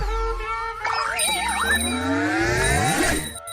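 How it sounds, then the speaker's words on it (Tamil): A doorbell rings in a comedy scene, a bright chiming tone with wavering, sliding pitches over a low hum, sounding continuously and fairly loud for a few seconds with no talk over it. "எமந்தாண்டா காலிங் பெல் அடிக்கிறான்"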